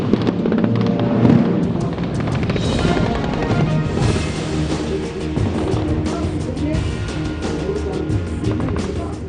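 A Taiwanese military live-fire exercise rattles with dense, continuous gunfire and thudding explosions, a loud, busy barrage throughout with no pauses.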